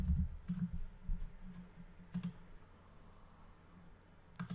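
Typing on a computer keyboard while building a WordPress website, a few soft, quiet key clicks in small clusters with gaps between, close but faint.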